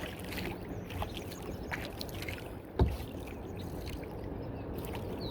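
Paddle strokes from a canoe or kayak on a mill pond in mid-May, soft close water swishes and drips over a quiet outdoor background, with one sharper splash partway through.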